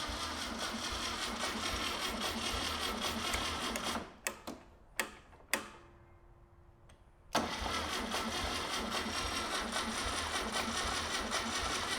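A cheap dune buggy's engine cranks over with a loud, steady, rattling churn. It stops abruptly into a few sharp bursts and a quieter gap, then resumes cranking at full volume to the end.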